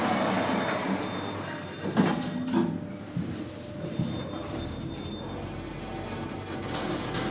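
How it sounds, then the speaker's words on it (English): Automatic sliding lift doors in a shopping centre, a Schindler lift from the 1990s, glide shut with a soft rumble and a couple of faint thuds, followed by a low steady hum, heard fairly quietly. "Doors closing."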